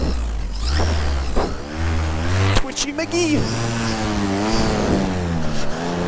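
An electric paramotor revs up with a rising whine while someone speaks over it, the motor noise surging and dipping.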